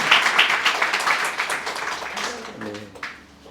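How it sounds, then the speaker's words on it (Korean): A church congregation claps at a deaconess installation service in Malaysia, a brief burst of applause that fades as a voice begins speaking at the end. "우리 크게 박수로 한번 축하해 주시고 들어가 앉으시기 바랍니다."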